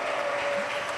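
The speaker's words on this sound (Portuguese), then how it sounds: "Dê um aplauso forte ao" Church congregation applauding the Lord during a worship service, a brief dense wash of clapping with a faint sustained tone running through it.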